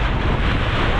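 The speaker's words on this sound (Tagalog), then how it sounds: "grabe ang lakas ng hangin" Strong gusting wind outdoors at Casapsapan buffets the microphone in a dense, continuous roar that stays loud for the whole moment, with no voices.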